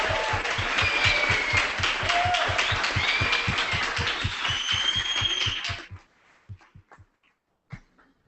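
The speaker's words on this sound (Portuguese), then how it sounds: "Vamos aplaudir o Mateus aí, galera" An audience at a photojournalism workshop claps in an even, rhythmic beat for about six seconds. The clapping then breaks off into a few scattered final claps and quiet.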